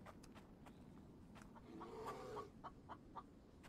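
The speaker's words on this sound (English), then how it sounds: "Okay, now I hear a chicken." A chicken clucks softly in the video game The Infected, a few short cackling notes near the middle, faint behind a steady low game ambience and scattered light ticking sounds.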